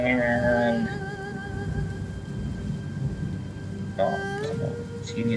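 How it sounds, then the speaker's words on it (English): Rain pours steadily during a battle in the strategy game Total War: Three Kingdoms, with low thunder rumbling throughout and sustained musical tones layered over the storm; no one speaks. "it has to rain"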